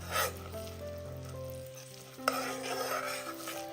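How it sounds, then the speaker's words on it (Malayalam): Unniyappam frying in oil are stirred, giving a close, bubbling sizzle with scraping stirs and a sharp knock partway through, over a low steady hum and with no speech. "ഈ ഒരു സമയം നമുക്കിതൊന്ന് ഇളക്കി കൊടുക്കാം."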